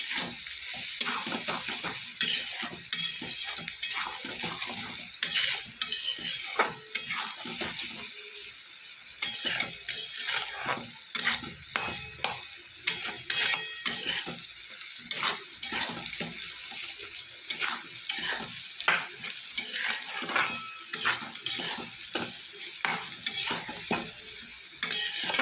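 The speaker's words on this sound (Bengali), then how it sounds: "এবার দেবো কেটে রাখা গোটা গোটা পেঁয়াজ 5-6টা মতো দিয়ে দিলাম, দিয়ে সাথে ভালো করে আমি কষিয়ে নেব।" Five or six whole onions fry with chicken for chicken kosha, stirred vigorously in a pan: repeated scraping strokes in an uneven rhythm over a constant loud sizzle, close up and without talk.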